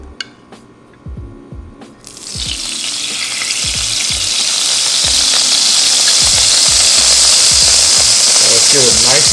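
Beef tallow hits a hot cast iron skillet and breaks into loud, steady sizzling that builds and holds, with a few soft knocks just before it starts.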